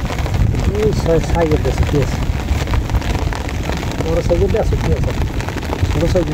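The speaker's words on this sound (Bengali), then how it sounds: "বৃষ্টি নামতে আছে তো মাছ জালে বাঁচতে আছে" Rain falling steadily outdoors during net fishing with a current net in Bangladesh, a dense continuous hiss with some wind buffeting, while someone talks over it intermittently.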